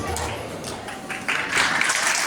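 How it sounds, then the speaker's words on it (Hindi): Applause from an audience at a school Christmas celebration after a children's performance, starting moderately and swelling louder midway into a dense clapping wash, with faint voices mixed in. "तो जोरदार तालियां हमारे प्यारे बच्चों की शानदार प्रस्तुति के लिए।"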